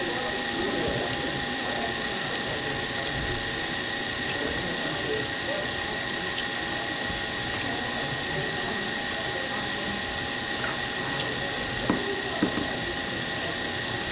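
An electric mixer whips egg whites for peanut butter puffs, giving a loud, steady mechanical whir with a faint rattle that runs unbroken throughout, with no voices.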